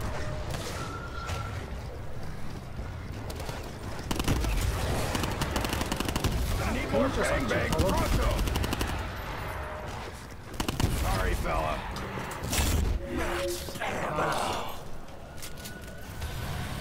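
Rapid bursts of gunfire and explosions from Call of Duty: Black Ops 4 Zombies, loud and chaotic, with brief gaps between volleys.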